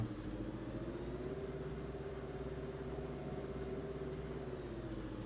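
A car engine drones steadily in the mobile battle game PUBG Mobile, a low, continuous rumble with a faint higher whine holding constant throughout, fairly quiet and with no talk over it.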